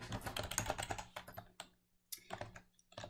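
A computer keyboard is typed on at close range while insurance details are entered into an online rating form, bursts of rapid clicking broken by a short pause, then more keystrokes, with no talking.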